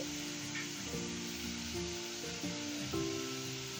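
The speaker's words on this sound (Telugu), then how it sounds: "కొంచెం అరటికాయ ముక్కలు ఫ్రై అయ్యే వరకు అంటే మగ్గ పెట్టుకోవాలండి" Raw plantain pieces lightly salted and frying in a pan, a soft, steady sizzle heard close, with faint scraping and stirring and a low background hum.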